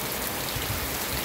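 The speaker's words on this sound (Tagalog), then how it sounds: "Lakas ng ulan lakas ng hangin" Heavy rain pours steadily during a super typhoon, a dense, constant hiss of drops hammering surfaces with low gusty rumbles underneath, close and unbroken.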